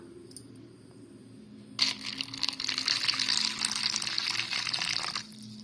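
Water pours into a bowl holding a teaspoon of almond gum, a bright splashing gush that starts abruptly, runs steadily for a few seconds, then stops, close and alone.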